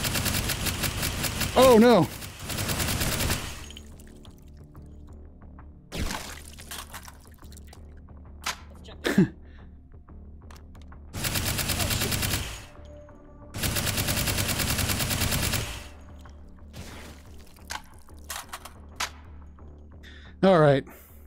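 A gun hip-fired in the VR shooter Hot Dogs, Horseshoes & Hand Grenades. Several loud separate bursts of firing are spread across the stretch, with quieter gaps in between and brief speech near the start and end.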